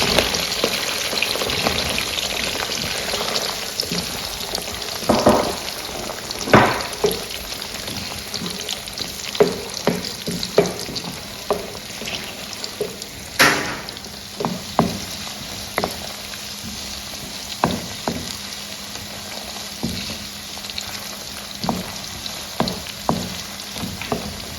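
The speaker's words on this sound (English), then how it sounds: "Now go ahead and add my onions." Onions fry and sizzle in a pan for garden egg stew with a steady hiss. Irregular pops and stirring clatters sound up close, and no one speaks.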